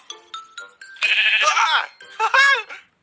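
Sheep in Minecraft bleat when hit, a few short blips followed by two longer wavering, nasal bleats, close and clear with no other sounds.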